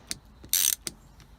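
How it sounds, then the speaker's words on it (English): Ratchet loosening T25 Torx screws on the shift knob of a MK7 Golf GTI: a few sharp clicking pawl ticks and one short buzzing ratchet burst, close and fairly quiet. "we'll use a ratchet to unscrew those"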